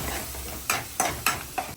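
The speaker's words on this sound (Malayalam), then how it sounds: "നമുക്ക് ചെമ്മീൻ വറുത്ത് കോരി മാറ്റി വയ്ക്കാം" Prawns crackle and sizzle in a hot pan while a spatula scrapes through them in four sharp, evenly spaced strokes, close and clear.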